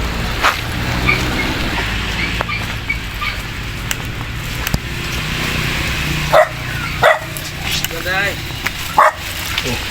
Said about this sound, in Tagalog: daming aso ngayon dito ah